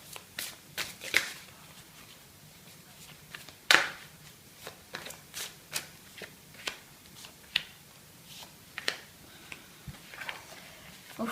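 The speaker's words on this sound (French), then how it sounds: "Je vais tirer hop, les cartes" Tarot cards are shuffled and drawn by hand at close range, a run of crisp flicks, riffles and soft slaps in an irregular rhythm with quiet gaps between.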